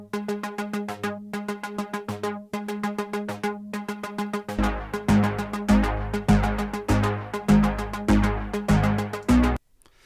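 A Juno 60 synthesizer part doubled and thickened by a Jupiter 6 plays alone, starting with repeated pulsing chords before a fuller, louder passage with deep bass joins halfway through and cuts off abruptly near the end.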